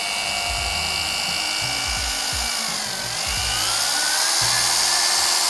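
Car polishing machine buffing body paint with compound, its steady high whine running loud and continuous as the speed is raised, pitch dipping briefly midway before climbing again.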